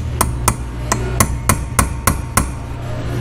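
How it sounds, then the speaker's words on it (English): Eight sharp metallic hammer strikes on a center punch ring out in a steady rhythm, close and loud, during a Kohler CH25S engine rebuild, over a low background hum with no talking. "Let's drive a center hole in there."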